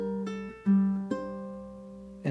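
One measure of a ukulele etude played close and alone: a few plucked notes including a pull-off, then a sustained half note ringing out before a final pluck.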